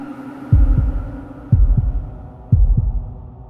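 Heartbeat sound effect for a horror story: three loud, deep double thumps, evenly spaced about a second apart, each a lub-dub pair over a faint low hum.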